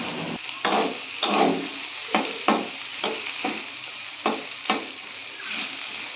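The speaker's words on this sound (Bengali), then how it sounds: "তো ওই দেখুন মোটামুটি আমার করলাটা ভাজা হয়ে গেছে" Bitter gourd frying in oil with salt and turmeric, a steady close sizzle broken by repeated bursts of stirring and scraping at uneven intervals, with no voices.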